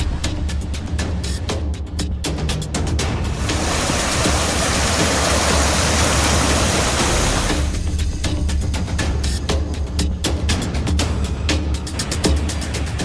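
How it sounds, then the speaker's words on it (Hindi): Swollen, flooded river after record monsoon rain in Uttar Pradesh's Bundelkhand region, a loud unbroken rushing roar of water that surges in intensity midway and continues without pause. "नदियों का शोर डरा रहा है।"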